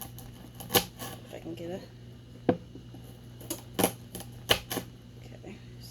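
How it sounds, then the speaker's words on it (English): A knife slices through raw carrots on a cutting board in a home kitchen, sharp distinct chops and thuds in an uneven rhythm, close and crisp, with a voice talking briefly over them. "And cut a few of the raw carrots."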